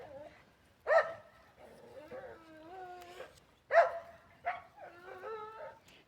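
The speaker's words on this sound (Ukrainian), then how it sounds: "тебе собачка побачила і вже гавкає, вона скаволить" A dog gives two sharp barks, each followed by drawn-out whining and whimpering, fairly close and heard alone without talk.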